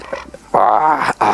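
A pet dog at home gives short, close, throaty growling and whining sounds, broken by brief gaps, with a person's quick exclamations mixed in.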